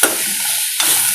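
Chutney ingredients for a pearl millet dosa meal fry lightly and are stirred in a home kitchen pan, giving a steady close sizzle with a brief scrape of stirring near the end and no talking.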